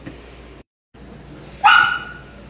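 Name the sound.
Labrador dog whining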